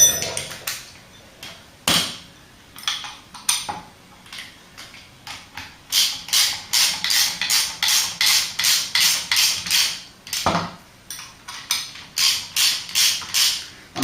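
Ratchet wrench nipping up bolts on a classic Ford Cortina under restoration: close, loud clicking bursts, first scattered, then steady rhythmic runs of ratchet strokes with short pauses, no talking.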